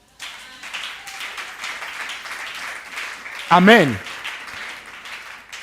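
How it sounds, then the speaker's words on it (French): A church congregation at a French-language sermon applauds and cheers in a steady, crowd-wide clatter that runs under the preacher's voice, with a loud vocal exclamation rising briefly near the end. "Acclamez Paul."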